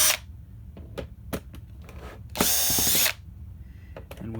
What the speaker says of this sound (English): sure that you don't strip the screws as they're coming out